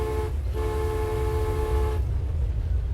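A train in the Transport Fever video game sounds a steady, tonal horn for about two seconds after a short blast and a brief gap, over a constant low rumble, with no speech.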